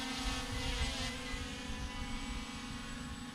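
A Holy Stone HS720 drone's propellers spin up close by with a steady, loud buzzing hum that holds evenly throughout, with no talk over it.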